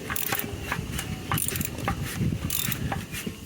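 Wrench loosening the oil drain plug on a Lexus during an oil change, a run of quick metallic ratcheting clicks and scrapes at close range with no talking.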